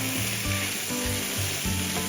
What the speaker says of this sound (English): So the venison's cooking up in nice brown gravy, here as you can see in the pan.